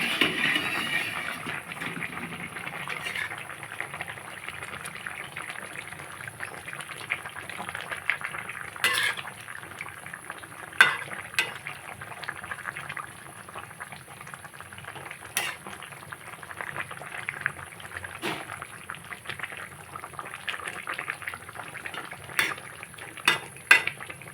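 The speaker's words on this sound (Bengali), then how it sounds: "জিরে গুঁড়ো দিয়ে দেবো একটু নেড়ে ছেড়ে দেবো" Cumin powder is stirred into a simmering rohu fish and bottle gourd stem curry in a pan, a steady bubbling hiss broken by occasional sharp clinks of a spoon against the metal.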